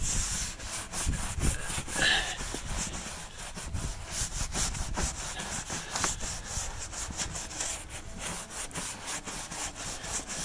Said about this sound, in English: Let's give her a scrub. This will be a quick scrub.